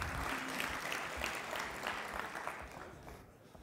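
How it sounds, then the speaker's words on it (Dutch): An audience at a provincial election debate in Overijssel applauds for Edgar Mulder, a dense, steady round of clapping from a crowd that tapers off slightly at the end. "Dames en heren, applaus voor Edgar Mulder."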